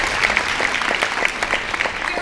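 A theater audience claps steadily for a student stage manager at a student musical production, a dense continuous round of applause heard close and alone.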